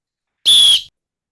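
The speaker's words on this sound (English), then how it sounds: "Juggsy, can you please blow your whistle on this one?" One short, sharp whistle blast, loud and close, lasting under half a second against silence.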